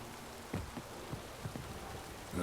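Rain falling in The Witcher 3 forms a steady, soft hiss with several brief brighter patters and splashes scattered through it. No one speaks over it.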